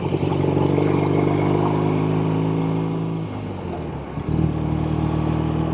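A 1968 BSA Thunderbolt motorcycle engine runs steadily nearby, a throbbing twin-cylinder idle that dips briefly before picking back up, with no talking over it.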